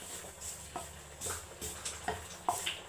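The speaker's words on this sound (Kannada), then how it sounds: "ಸೊ ಅದಕ್ಕೆ ನಾನು ಫ್ರೈ ಮಾಡ್ಕೊತಾ ಇದ್ದೀನಿ." Green chillies and curry leaves dry-roast on a hot tawa without oil, giving a soft, steady sizzle broken by scattered scraping clicks as they are stirred.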